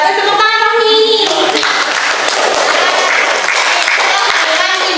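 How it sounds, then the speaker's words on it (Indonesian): A classroom full of teachers and students bursts into sustained applause, dense and loud, after a voice with a tonal, sung-like quality briefly precedes it. "tepuk tangan dong nih"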